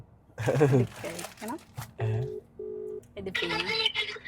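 A phone being dialed gives a few short, steady keypad beeps in a row, surrounded by people talking and some rustling nearby.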